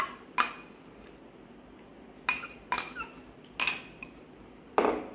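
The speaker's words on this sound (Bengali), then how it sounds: "এরপর আমি এখানে সেদ্ধ করে রাখা সাবুটাকে মিশিয়ে দেবো।" A utensil stirs boiled sago pearls into a mango drink, giving a handful of distinct clinks and taps against the glass or bowl, spaced a second or so apart over quiet background.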